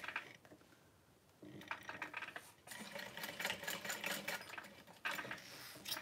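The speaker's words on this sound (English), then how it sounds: "So I'm sewing right sides together on this loop to flip it." A sewing machine stitches fabric right sides together on a small loop, with quiet rapid mechanical bursts that start, stop and resume in short runs, close and fairly soft.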